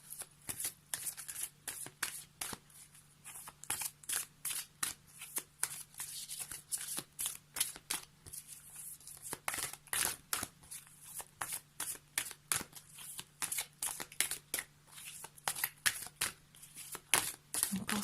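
Oracle cards shuffled continuously by hand for a daily card reading, a dense, fast run of crisp riffling flicks close up, steady and unbroken for the whole stretch with no talking.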